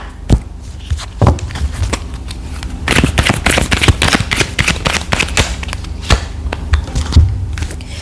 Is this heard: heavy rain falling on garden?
no